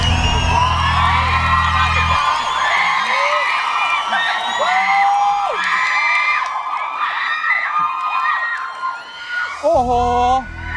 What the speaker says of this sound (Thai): เปิดตัวปรัสนีหมายเลขสี่ด้วยเสียงกรี๊ดแบบโอ้โหดังลั่นเลย